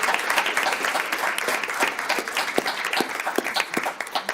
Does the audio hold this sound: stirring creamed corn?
no